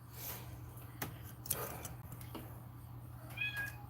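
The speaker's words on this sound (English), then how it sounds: "pretty kitty, with your little meow" A cat gives a few short meows over a steady low hum, with faint clicks and a brief high chirp near the end.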